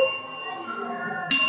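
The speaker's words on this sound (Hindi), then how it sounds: "हमारे पास एक विद्युत घंटी भी है" An electric bell keeps ringing with a sustained metallic tone that swells again near the end, loud and close in a classroom.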